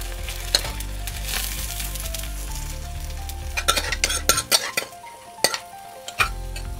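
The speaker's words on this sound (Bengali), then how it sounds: "একটা হাতার সাহায্যে ডিমের গোলাটা দিয়ে দিচ্ছি।" Egg batter ladled over pumpkin flowers in a hot pan, a steady close sizzle of frying with a few light clinks of a ladle against the pan, and no voices.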